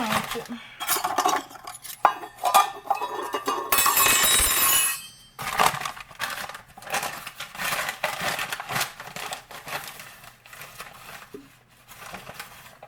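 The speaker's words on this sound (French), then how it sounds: "dans mon premier bol, ici, il faut que je mélange une demi-tasse de farine avec un quart de cuillère à thé de sel" Flour and salt stirred together in a bowl while baking Nutella brownies, with brisk scraping and clinking of a utensil against the bowl, loud and close, and a longer rustling burst midway.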